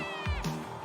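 A short, close meow from a cat in a video game trailer, a single rising-then-falling cry over a steady background music bed.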